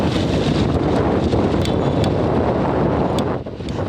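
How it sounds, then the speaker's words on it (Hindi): Strong gusting winds ahead of monsoon rain in Karachi batter the microphone with loud, continuous roaring rumble, briefly easing near the end before surging again. "बारिश से पहले तेज हवाओं के झक्कड़ों ने मौसम की शिद्दत में मजीद इजाफा कर डाला।"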